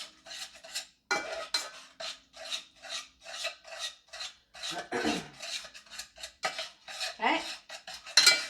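A spoon scraping and mixing butter and sugar in a bowl for snowball cookies, making rhythmic gritty rasping strokes, about two per second, close and clear, with a brief spoken word near the start.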